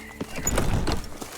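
Hooves of Roach, Geralt's horse in The Witcher 3: Blood and Wine, a few close clip-clop steps with a brief snort or whinny, over a soft ambient background.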